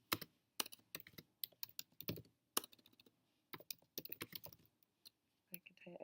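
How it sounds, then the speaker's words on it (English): Fingers type on a computer keyboard in quick, irregular bursts of clicky keystrokes with short pauses between them, close and fairly quiet. "you'll hit tab to indent your first paragraph and just begin typing your paper"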